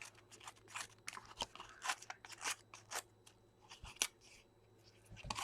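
Inked paper folded over and torn by hand in short crisp bursts of ripping and crackling, close and fairly quiet, with small pauses between tears.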